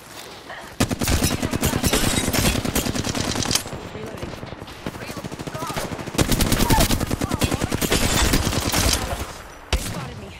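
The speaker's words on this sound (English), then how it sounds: "They spotted me. I'm taking shots." Rapid automatic gunfire in an online shooter game rattles in long, loud, evenly spaced bursts, broken by brief pauses, with little talk over it.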